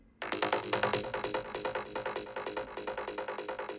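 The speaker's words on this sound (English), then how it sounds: "A nice aggressive plucky sound." An aggressive, plucky wavetable synth plays a fast run of sharp, evenly spaced notes, loud and close, each with a quick bright attack and short decay, no voices.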